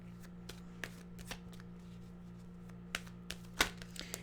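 A deck of tarot cards is shuffled quietly, with soft papery riffles and scattered crisp taps and flicks close by over a low steady hum.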